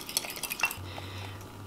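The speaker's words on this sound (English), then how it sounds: "we'll just add a little bit of powdered sugar to the mixture, 3 teaspoons, and then we're gonna whisk it up" Powdered sugar glaze is whisked in a bowl for vegan Christmas cookies, with a quick run of light metallic clicks and scrapes at the start, then a low steady hum.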